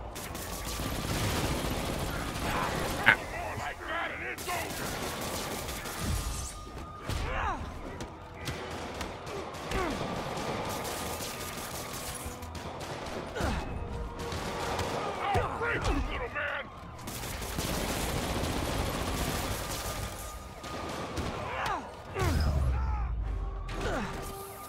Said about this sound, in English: Get out of the way of the guy with the chain gun there.